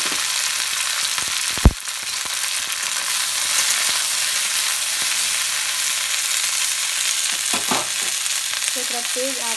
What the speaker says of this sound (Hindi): तेज आँच पर हम कहीं भूज लेंगे।